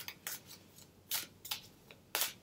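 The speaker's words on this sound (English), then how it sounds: "We're going to shuffle and cut the deck." A tarot card deck being shuffled and cut, heard as about six sharp, crisp riffling bursts at uneven intervals, close and fairly loud against a quiet background, no talking.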